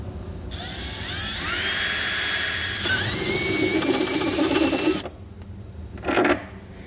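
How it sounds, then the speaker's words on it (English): Power drill boring pilot holes into the steel frame rail of a 2020 Chevrolet Silverado 2500, a rising high whine for about five seconds, then a brief second burst after a pause. "Now we go ahead and remove our front rail and drill our pilot holes, and then widen our holes to 9/16 of an inch."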